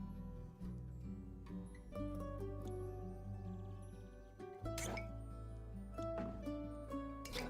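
Drink liquid pours and drips in the cozy video game Tavern Talk, with soft, irregular droplet ticks over steady, gentle background game music.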